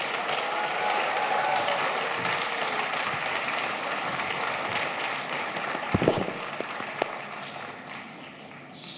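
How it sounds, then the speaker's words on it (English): Sustained audience applause fills a design competition finals event in London, steady clapping from a large crowd with a few sharper individual claps near the end. "give yourselves a big round of applause"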